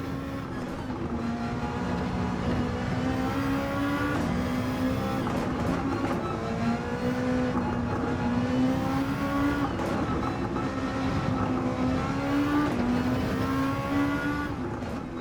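The Lexus RC F GT500 '16 race car in Gran Turismo 7 gives a steady onboard engine note with no voices, its pitch rising and falling repeatedly through gear changes and throttle lifts around a lap.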